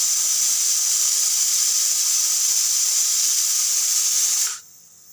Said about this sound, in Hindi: हमारे कुकर का भी प्रेशर रिलीज़ हो गया है